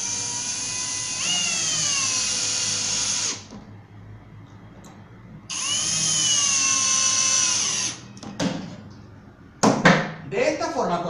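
A power drill drives pocket-hole screws into wood, two sustained whirring bursts of about two seconds each that rise in pitch and then stop, followed by brief knocks and a short spoken remark.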